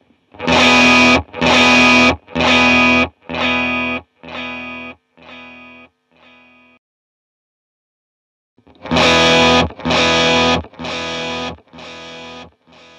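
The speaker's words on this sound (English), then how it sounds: "if you like the sound of delay running into an overdrive" A distorted electric guitar, delay running into overdrive, plays a series of strong strummed chords that trail off with repeating delay echoes, falling silent, then another loud burst of chords.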